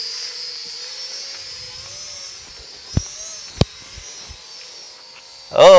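A small motion-controlled drone's motors give a steady high buzzing whine, joined by a few sharp clicks and a louder burst at the end.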